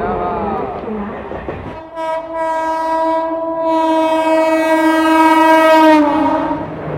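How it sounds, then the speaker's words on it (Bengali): A MEMU passenger train sounds a loud, sustained horn at Santragachi station, the blast starting abruptly after a couple of seconds of rumbling and holding steady for several seconds before fading. "ট্রেন আমাদের এই এসে পৌঁছলো সাঁতরাগাছি 3 নম্বর প্ল্যাটফর্মে।"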